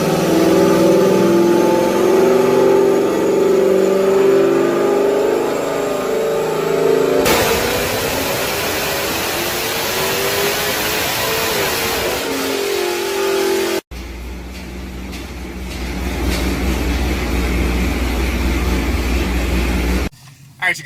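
Dodge Challenger with a cammed 392 Hemi on a dyno, its engine revving hard through a rising sweep to a loud peak, then cut off and followed by a lower rumbling idle.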